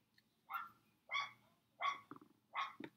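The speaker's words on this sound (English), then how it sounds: "Guys, I know that those dogs are annoying." Neighbor's dogs bark in a slow, steady series of four single barks, each followed by a shorter lower yelp, moderately distant and with no talking over them.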